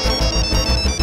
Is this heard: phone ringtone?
yes